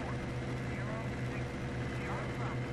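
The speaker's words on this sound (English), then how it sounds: "We're full throttle. We've got our forward cowl flaps open because we know we're going to run our engine hard." A fighter plane engine at full throttle, with forward cowl flaps open, in the flight-combat game IL-2 1946: a constant droning roar with a steady low hum, and a voice talks over it.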